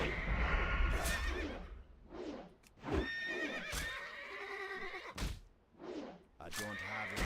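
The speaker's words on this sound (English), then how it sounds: "These sound like a lot like horses, though, not zebras." Zebras in World of Warcraft Classic giving horse-like neighs and whinnies, several loud cries in succession with clip-clop hoofbeats and game effects beneath.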